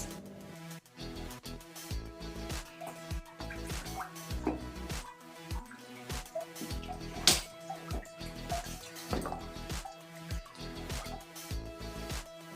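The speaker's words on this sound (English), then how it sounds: "you can also feel the water droplets from the cave roof and one small stream going by the side of yours" Water drips steadily from a cave roof beside a small trickling stream, giving a dense patter of close drops with sharper individual splashes throughout.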